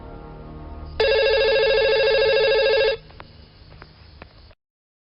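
A telephone rings with a single loud, continuous electronic trill lasting about two seconds, heard on its own, followed by faint indoor clatter.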